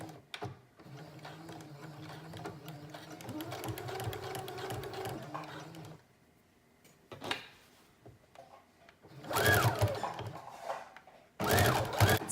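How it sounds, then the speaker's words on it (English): A domestic sewing machine stitches a thick teddy bear jacket back seam in a long steady run, stops, then starts again in two louder short bursts with handling noises between. "we're going to sew the back."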